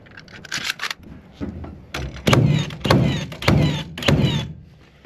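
Cordless framing nailer driving nails into wood framing, a rapid series of five or six sharp, loud thunks with a firing snap on each, spaced about half a second apart.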